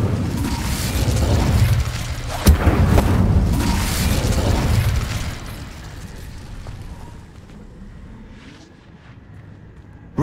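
Incendio fire spell cast in Hogwarts Legacy: a loud roaring burst of flame with a sharp crack partway through, sustained for several seconds, then fading to a low rumble and faint mechanical clicks.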